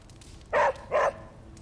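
Charlie the dog barks twice in quick succession in Midnight Suns, two clear, close, mid-pitched woofs over a low background hum.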